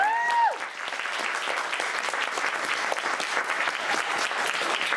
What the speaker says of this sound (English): Let's have one more round of applause for her.